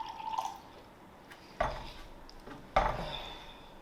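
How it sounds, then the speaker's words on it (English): Dasani bottled water poured out, with a gurgling splash at the start followed by two sharp, close clinks and splashes against a glass in a quiet room. "Ooh, that is a nice pour. It's got a nice sound to it."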